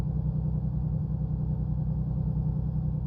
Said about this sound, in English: That bass drum of the engine is really getting it working over.